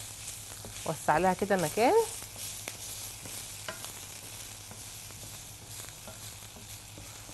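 Meat fries with onions in a pan, giving a steady soft sizzle with occasional stirring scrapes, while someone speaks briefly near the start.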